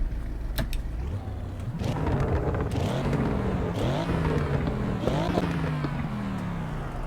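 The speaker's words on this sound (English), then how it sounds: "Great sounding car." Audi RS6 engine in the Assetto Corsa EVO racing game on the Nürburgring, revving loud and continuous through repeated upshifts and rising pitch sweeps, with brief crackles and wind noise over it.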